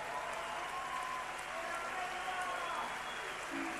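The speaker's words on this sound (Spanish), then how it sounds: "Un aplauso para ellos." Applause with some crowd noise at a 2011 album launch concert, steady and rather distant, with faint voices mixed in.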